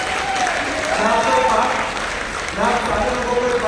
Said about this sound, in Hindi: प्लीज जोरदार तालियां होनी चाहिए यार भैया